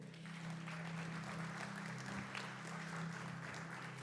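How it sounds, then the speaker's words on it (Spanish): A congregation claps during a Papiamentu-language church service, a dense continuous patter of many hands heard faint and distant over a low steady hum. "Señor, un fuerte aplauso."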